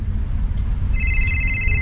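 An electronic phone ring sounds midway through, a steady high-pitched tone over a low rumbling background.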